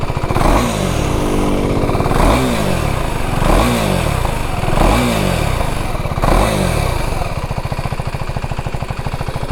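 A Husqvarna Svartpilen 401 single-cylinder motorcycle blips its throttle in neutral, five or six quick rising and falling revs over a loud, close, clattering idle, then settles back to a steady idle.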